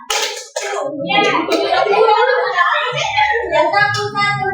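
A class of children clapping a counted one-two-three pattern together. The claps come in quick bursts, close and fairly loud, mixed with children's voices calling along.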